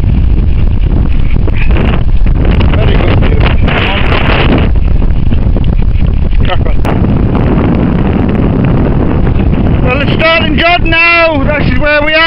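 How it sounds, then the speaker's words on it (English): Strong wind buffets the microphone on an exposed fell summit near Buttermere in the Lake District, a constant heavy roar through most of the stretch, with a voice speaking over the gusts toward the end. "It's very windy up here."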